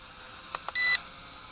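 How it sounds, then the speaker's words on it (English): A Mould King 33034 toy drone controller, a clone of the Syma X5C, gives two faint clicks and then one short electronic beep for beginner mode, sharp and close in a quiet room. "One beep is beginner mode."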